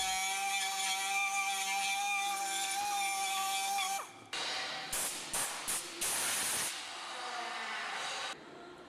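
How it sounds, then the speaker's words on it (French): A rotary tool chamfers plastic in preparation for plastic welding, giving a steady high-pitched whine for about four seconds, then a series of short, hissing grinding bursts, close and fairly quiet. "Pour la partie externe, chanfreinez les parties à ressouder jusqu'à l'apparition du grillage."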